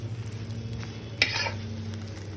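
Spices fry in oil for an egg curry, giving a faint, even sizzle under a low hum, with one brief clink of a utensil against the pan.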